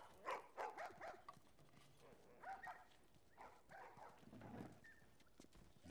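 Dogs in The Last of Us Remastered video game give several short yips and barks, scattered and fairly faint, with quiet voices and shuffling noises in the background.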